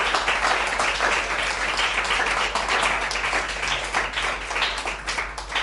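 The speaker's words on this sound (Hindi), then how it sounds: "जोरदार तालियों से स्वागत करिए" An audience at a conference on media laws and ethics gives loud, sustained applause to welcome a guest speaker, a dense, even clatter of many hands lasting several seconds.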